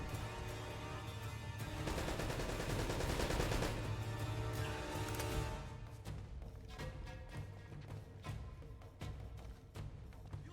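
Sustained gun turret fire in the Uncharted video game, a dense loud barrage of rapid shots for the first five seconds, then thinning into scattered, separate bursts and single reports.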